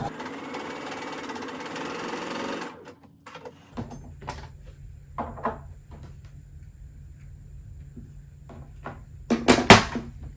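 Sewing machine stitching quilt-as-you-go blocks with a quarter-inch seam, heard as a steady whirring run for the first few seconds, then pauses with scattered handling clicks and a brief louder burst near the end.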